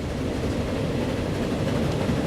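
A slow train rolls along in the transport simulation game Transport Fever, a steady low rumble of wheels and carriages that holds an even loudness throughout with no talk over it.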